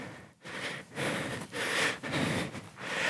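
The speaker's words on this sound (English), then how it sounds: "You hear my breathing." A workout instructor breathes hard and heavily into the mic, with steady rhythmic cycles of loud panting inhales and exhales, close and alone without speech.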